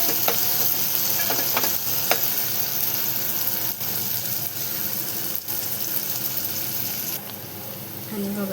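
Onions frying until brown in a pan: a loud, dense, continuous close sizzle with a few spoon scrapes and clinks, steady throughout.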